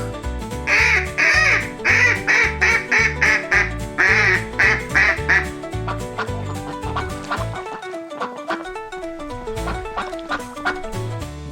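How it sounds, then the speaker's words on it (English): A duck quacks in rapid repeated bursts, loud and close, followed by a stretch of other animal-like calls and clucking noises with no voices. "It's a duck."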